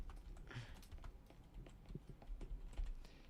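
Quiet, irregular computer keyboard typing during an online VR game match, soft clicks and taps scattered across a few seconds under low background noise.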